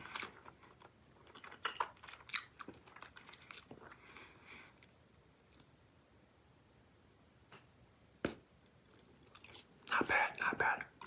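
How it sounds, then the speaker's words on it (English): Big League Chew bubble gum chewed and worked into bubbles close to the mic, with soft wet clicks and smacks coming in bursts between quiet gaps and a louder cluster near the end. "Let me try to blow some bubbles."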